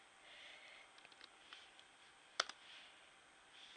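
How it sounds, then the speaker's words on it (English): Typing on a computer keyboard during a web search, light scattered key clicks at close range with one sharper louder click partway through, no voices. "let's just type in that and search"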